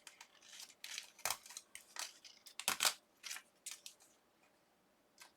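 Paper for a Sizzix gift card bag being folded and creased by hand, a string of quiet crinkling and crisp scraping rustles in short bursts, close up with no voices.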